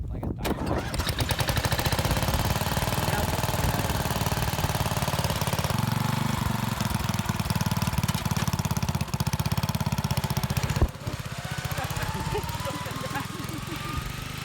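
MTD lawn mower converted into an off-road build, its small engine running loud and close with a rapid steady chug as it drives, with voices talking over it.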